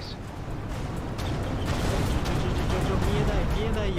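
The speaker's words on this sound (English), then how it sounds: "Explosion imminent." Heavy, sustained roar of a spaceship explosion in the space combat game Everspace 2, a dense rumbling blast that swells and holds throughout, with game sounds layered underneath.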